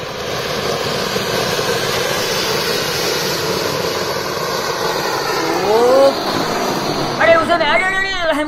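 Diwali anaar firework fountains burn as jet thrust on a car, giving a loud, steady hissing roar throughout, with a short whistle near the end and excited voices shouting over it.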